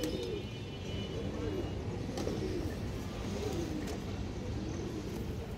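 Pigeons of several fancy breeds coo in a steady, repeated rhythm at close range against a continuous background hum of a bird market or loft, with occasional brief sharper sounds.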